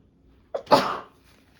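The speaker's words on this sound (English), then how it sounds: "I'm going to sneeze." A single sneeze, close and fairly loud, comes during a puttering session in a craft studio: a short sharp intake, then a burst that fades out over about half a second, with quiet all around.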